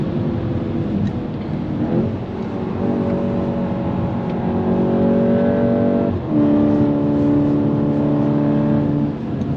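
Inside a VW Golf 8 GTI Clubsport on the Nürburgring, the engine drones loud and steady and rises in pitch through the gears, with a brief dip around the six-second mark.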